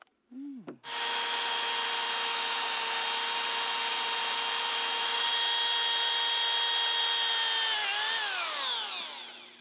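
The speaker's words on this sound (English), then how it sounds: "we can drill the holes with this" A hammer drill whines loudly at a steady pitch for several seconds of continuous drilling into wood, then winds down near the end.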